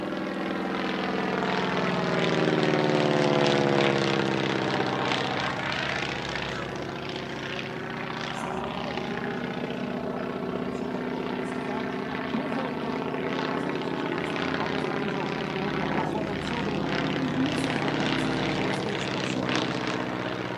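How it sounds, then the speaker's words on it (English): A Stearman biplane performs stall turns at an airshow, its radial engine and propeller droning loudly and continuously, the pitch rising and falling as it climbs, pivots and dives. "A pair of stall turns here, one showing the underside of the aircraft and the other showcasing the top surface."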